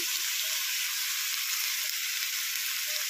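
Red chili powder frying in oil in a pan for a North Karnataka-style eggplant dish gives a steady, close, hissing sizzle that holds evenly throughout, with no talk over it.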